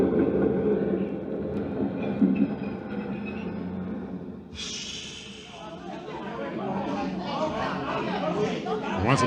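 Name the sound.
subway station with passing train, radio drama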